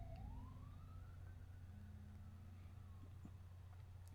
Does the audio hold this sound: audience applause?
no